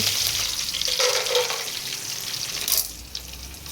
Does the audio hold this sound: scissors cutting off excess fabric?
no